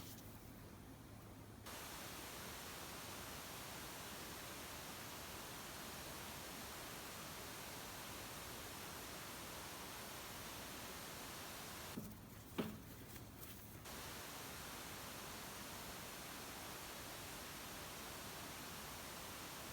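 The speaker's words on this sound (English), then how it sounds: "I just turned on the AC, so because it's really hot" Steady broadband whooshing hum runs throughout, like an air conditioner blowing, with a brief faint clatter partway through.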